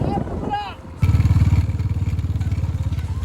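A motorcycle engine revs loudly and chugs in a rapid, pulsing rhythm close by while riding on snow during snowfall near Mandala Top, Arunachal Pradesh, after a brief moment of voice at the start.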